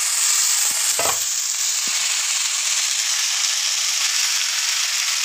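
Green chilies fry in hot oil for a watermelon rind curry, giving a steady bright sizzle and hiss with a couple of quick stirring clatters near the start.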